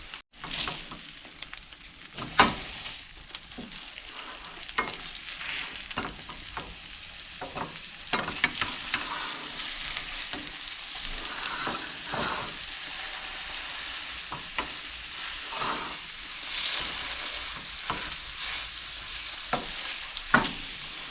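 Meatloaf burger patties sizzle and crackle steadily in a hot pan, with occasional scraping and clinks of a spatula, no talking.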